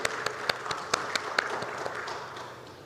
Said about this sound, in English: A big round of applause for all of you here who have made it to this.